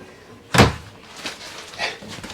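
A single solid thunk of a wooden wardrobe closet door shutting inside a Venture SportTrek STT302VRB travel trailer, followed by faint softer bumps nearby.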